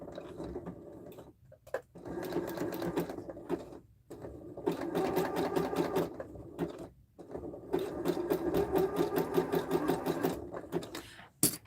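A sewing machine stitches fabric in several bursts separated by short pauses, its rapid ticking needle rhythm moderately loud and close, the runs growing longer toward the end.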